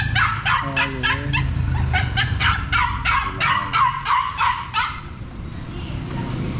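A dog barks and yips repeatedly in quick high bursts near a Honda Supremo motorcycle, with a person talking over and between the barks.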